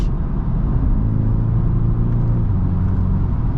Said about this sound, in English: Oh yeah, upshifting, downshifting, there is no delay.